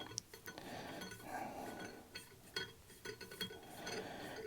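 Metal core rods for soft plastic bait molds being coated with worm oil clink and rattle against each other in irregular light taps, faint and close, with no talking.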